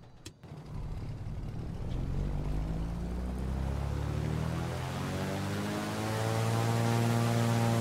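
A Piper Turbo Arrow engine starts in Microsoft Flight Simulator: after a brief starter burst it catches into a steady, droning propeller engine hum that holds smoothly and builds slightly, heard alone without talk.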